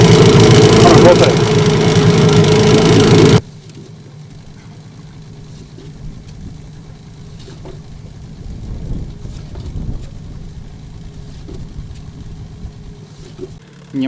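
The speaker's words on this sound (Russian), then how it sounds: "Немножко погрел двигатель, дымит сильно, он у меня на обкатке еще." A new Mikatsu 9.8 outboard boat motor, still in break-in, warmed up on an oil-rich fuel mix and smoking heavily. The engine is loud and roaring for about three seconds, then settles into a quieter, steady low idle.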